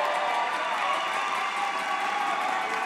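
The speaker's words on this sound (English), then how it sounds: "crowd's really getting into it, Ryan." Crowd at a high school boys' state basketball game for fifth place, cheering in a dense, steady roar that holds at an even level throughout without clear peaks.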